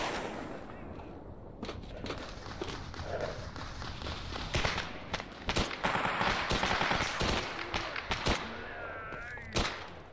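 Gunfire in S.T.A.L.K.E.R. Anomaly: rapid bursts and single sharp shots crack repeatedly at varying distances, loud and dense, with voices faintly in the mix.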